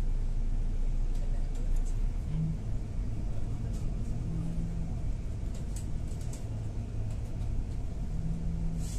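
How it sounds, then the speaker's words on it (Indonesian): Heavy afternoon rush-hour traffic jam on a road, heard as a steady, dense low rumble of car and engine noise that carries on unbroken throughout. "ini kalau sore hari ini macet banget ya"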